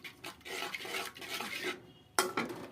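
A spatula stirring Bangladeshi fish curry with dry chilli powder in a pan, with repeated scraping and clinking strokes, a brief pause, then two sharper knocks, fairly faint.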